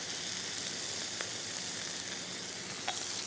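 A slice of beef sears in a little fat in a hot pan, giving an even, continuous sizzle with a few brief crackles and no talking.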